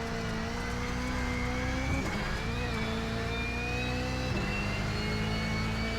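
Steady engine drone of a Subaru WRX race car under throttle in the iRacing simulator, held and rising with gear changes through two brief dips, continuous and fairly close with no talk.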